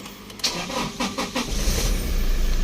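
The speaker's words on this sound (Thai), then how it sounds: "เครื่องฟิตสตาร์ทติดง่ายครับ อ่า ทีเดียวติดเลยนะครับ" A 2017 Toyota Revo 2.8 diesel pickup, already warm, cranks briefly with a few rapid starter pulses and catches on the first try, settling into a steady low diesel idle, close up with no voices.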